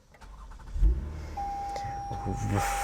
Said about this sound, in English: I love the sound of the exhaust in this.